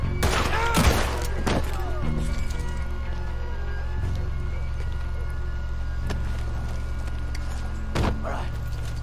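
Gunfire in the video game Red Dead Redemption 2: a few sharp shots at the start and another near the end ring over a steady low rumble of game ambience.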